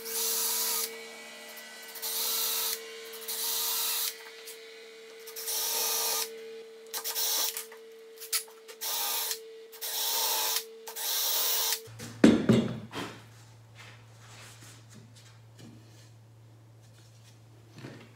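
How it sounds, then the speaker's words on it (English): Drilling holes in wood for a magnet-mounted mosquito screen frame: a power drill whirs in a series of short, repeated bursts with brief pauses between them, then falls quiet, leaving softer handling noises and a low hum. "I'm just drilling all of them roughly the same distance apart"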